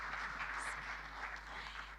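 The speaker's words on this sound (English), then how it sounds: "A round of applause as he joins the stage." Faint, steady applause from an audience at a corporate annual general meeting opening ceremony as a panelist walks onto the stage, a distant, even wash of hands with no pauses.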